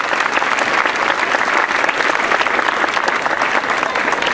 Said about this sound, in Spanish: Así es que un aplauso para Dios Todopoderoso.